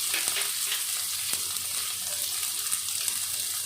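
Chopped onion fries in hot oil with cumin, mustard seeds and panch phoron for an Odia pomfret fish curry, giving a close, continuous hiss and sizzle with small pops and a few stirring scrapes.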